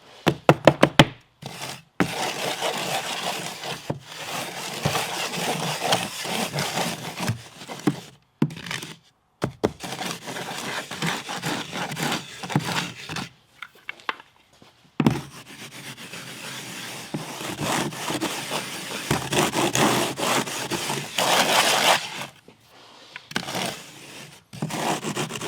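A clean wood float rubs and scrapes across dry pack mortar in a shower pan, close up, in repeated gritty strokes with brief pauses between passes and no talking.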